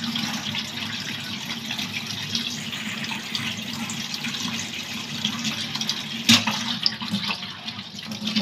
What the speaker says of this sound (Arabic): وتفضلي سايبة المية عليه